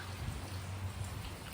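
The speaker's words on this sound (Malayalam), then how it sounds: "മഴ പെയ്തുകൊണ്ടിരിക്കുക കേട്ടോ" Steady rain falling outdoors at a hotel, a continuous soft patter of drops spread evenly through the whole moment with no voices.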